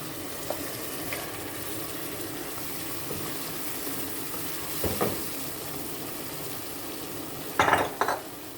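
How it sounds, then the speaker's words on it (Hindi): Chicken or goat liver (kaleji) sizzles in spiced masala in a karahi pan, with a soft steady fry and a few scraping stirs and metallic clinks, the loudest near the end. "अब हम इस मसाले में अपना कलेजी शामिल करेंगे"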